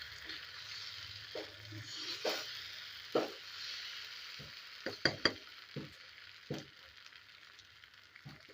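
Yellow, turmeric-tinted dosa batter for egg rolls (muttachurul) sizzles softly on a hot pan, with a steady frying hiss broken by scattered pops and crackles, and no voices.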